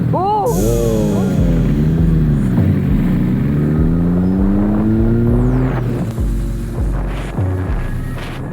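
A Triumph Scrambler 900 motorcycle on country lanes, its engine note rising and falling through gear changes with steady low rumble and droning tones, riding along close and loud beneath wind.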